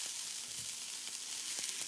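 Tomatoes sizzle steadily in a hot frying pan, a continuous close crackle of frying with small pops and occasional stirring, with no voices.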